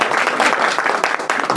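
Audience applause at a shop opening celebration, a brief dense burst of many hands clapping together at close range.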